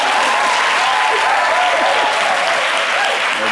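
A studio audience at a Valentine's Day midday show applauds a couple making declarations to each other. The clapping is a loud, dense, continuous wash, with a faint murmur of voices underneath.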